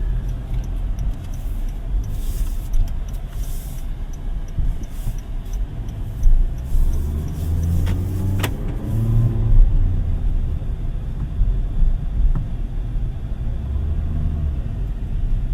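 A 2025 Toyota Ativ with a 1.3 engine and CVT drives along in a steady, moderate cabin rumble. Faint ticking from a turn signal is heard, along with a brief rise in engine drone partway through.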